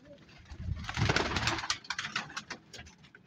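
A pigeon coos softly at close range, a low throaty burbling call lasting a few seconds, with faint background rustle.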